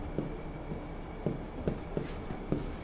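Marker or chalk strokes on a classroom board during a Hindi science lesson, several short scratchy bursts with gaps between them, faint and close, with quiet speech around them.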